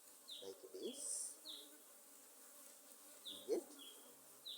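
Honeybees buzzing around a hive in Uganda, a soft, continuous hum with individual bees droning past close by, fairly quiet overall.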